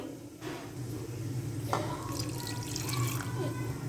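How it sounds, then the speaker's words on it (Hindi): Meat stock-style water splashing into a pot of chicken karela gosht after the ginger, chili and tomato paste, a soft continuous trickling pour at moderate distance with faint voice traces underneath. "थोड़ा सा मैंने पानी डाल दिया"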